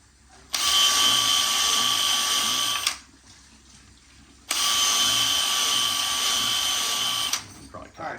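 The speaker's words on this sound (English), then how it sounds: "So I'll just take the drill" A power drill drilling holes in a tire for ice-racing studs whines loudly in two long bursts of about two and a half seconds each, separated by a short pause, with faint background noise between.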